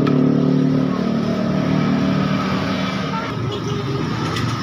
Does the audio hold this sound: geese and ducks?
no